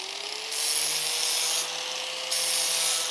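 A blade edge is deburred on the back against a powered sharpener that throws sparks: a steady abrasive grinding hiss over a low motor hum, swelling louder during two pressed passes.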